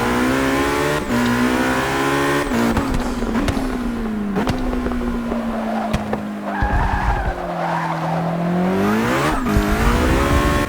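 A Ferrari race car engine in Forza Motorsport 6 revs and drones continuously, pitch rising and falling through gear changes, with tire squeals and skidding throughout.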